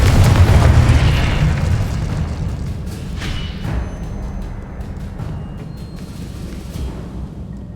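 A Confringo blasting curse detonates in the video game Hogwarts Legacy, a loud deep boom at the start that rumbles and slowly decays into a lingering low roar.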